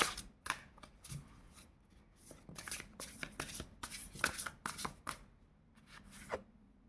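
A deck of cards is shuffled close by in repeated riffling bursts, crisp and fluttering, with short pauses and light handling between them; nobody talks.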